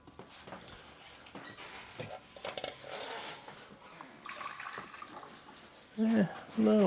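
Fresh water pouring into tubs, a splashy running stream under intermittent speech, moderately close and fairly quiet, with a clear voice heard near the end.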